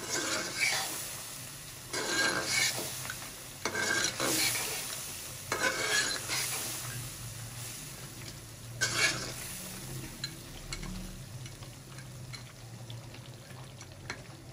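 Dhaba-style mutton chop karahi fried and stirred in a wok: loud bursts of scraping spatula strokes over a bubbling oily sizzle, fading to a softer simmering hiss toward the end.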